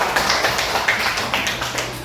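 A classroom of students claps together in a short burst of rhythmic applause, fairly close and loud, with sharp repeated claps lasting about two seconds.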